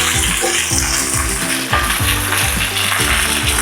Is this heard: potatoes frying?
yes